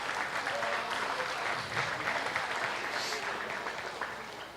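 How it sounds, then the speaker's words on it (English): An audience at an open-class dairy show applauds Holstein exhibitors, with steady, dense clapping from a sizable crowd for several seconds that tapers slightly at the end. "Let's give a nice round of applause to our Holstein exhibitors here on a real nice class."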